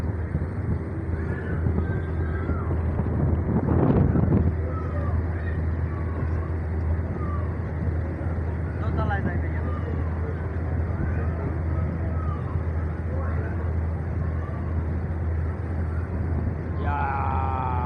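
Steady low rumble and water rush of the MB Torongo 7 passenger launch running at speed on a Bangladeshi river, continuous and droning throughout, with a short louder burst near the start.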